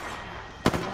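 A single sharp gunshot from the video game Apex Legends cracks out near the end of a brief stretch of steady game noise.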